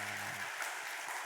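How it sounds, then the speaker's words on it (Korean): Church congregation at a Sunday worship service clapping together, a short burst of dense applause, moderately distant and fairly quiet, with no voices. "우리 한번 힘차게 박수 한번 하겠습니다"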